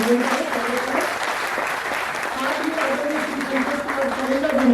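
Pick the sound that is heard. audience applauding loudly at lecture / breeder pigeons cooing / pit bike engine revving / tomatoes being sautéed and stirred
audience applauding loudly at lecture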